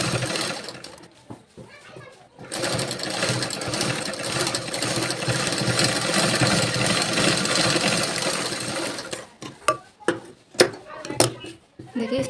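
A sewing machine runs steadily while stitching a blouse with a double seam, a continuous whirring hum that stops and gives way to a voice speaking.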